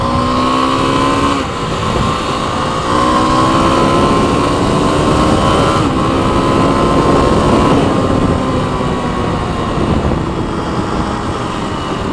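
Kawasaki KLX300 dirt bike engine, gearing revised, pulling through the gears with rising and falling tones, loud and close under wind rush, with no speech.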